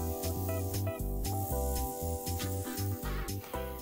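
Makeup foundation sprayed onto a face from an airbrush-style sprayer, giving soft breathy hissing bursts in short repeated pulses over a louder background of music.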